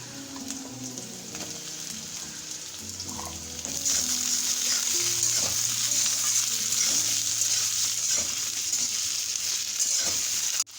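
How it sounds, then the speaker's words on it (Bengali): Potatoes and chopped onion fry in oil for a bitter gourd and potato dish. A steady sizzle jumps to a louder, hissing crackle partway through as food hits the pan, with occasional stirring scrapes underneath. "আলুটা আমি হালকা ভেজে নিয়েছি"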